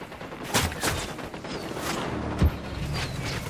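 Gunfire from a sniper and others in the Ghost Recon Wildlands game: several sharp cracks at irregular intervals over a background of combat noise, with one heavier report near the end.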